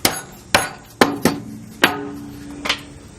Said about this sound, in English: What I use sometimes is a hammer to tap these in tight.